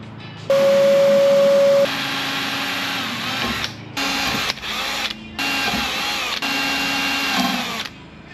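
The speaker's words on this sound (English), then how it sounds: "It seems to be drilling pretty easily." A power drill bores into a Mazda 13B rotary engine housing for porting, whining loudly in several bursts separated by short pauses, the pitch and load shifting as the bit bites into the metal.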